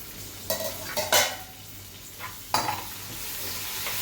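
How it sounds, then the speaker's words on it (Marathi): Capsicum being stirred in a pan after a brief covered steaming, giving a few scraping, sizzling strokes near the mic with quiet frying between them and no talking. "शिमला मिर्च मिक्स करूया"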